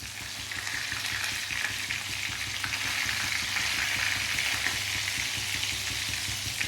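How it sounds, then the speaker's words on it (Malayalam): Fish frying in hot oil with a few curry leaves tossed in, a continuous dense sizzle and crackle holding steady and close from start to finish. "അപ്പം നമ്മുടെ ഈ ഫിഷ് ഇങ്ങനെ ഫ്രൈ ആയി വരുമ്പോൾ ഇതിലേക്ക് കുറച്ച് കറിവേപ്പില ഇട്ട് കൊടുക്കണേ."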